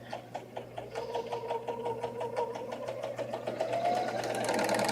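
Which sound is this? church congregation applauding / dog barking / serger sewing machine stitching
serger sewing machine stitching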